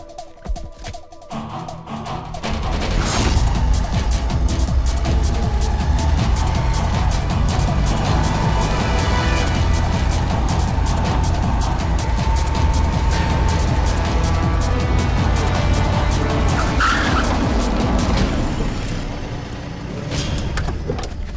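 A car pulls away with a loud, sustained engine roar and broad road noise rising after a quiet start, holding steady for most of the stretch before easing near the end; no talk is heard.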